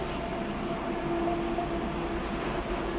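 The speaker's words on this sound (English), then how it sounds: "Fascinating this, driving onto a train." A car rolls onto a Eurotunnel shuttle train, giving a steady rumbling drone with a sustained tonal whine inside the rail carriage, loud and continuous with no talking.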